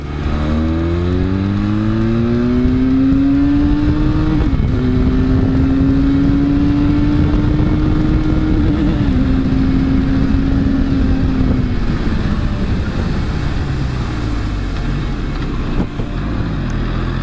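A 2020 Benelli 502c motorcycle accelerates on a test ride, its engine droning loudly and rising in pitch through the gears, with a brief dip at a shift and steady wind noise.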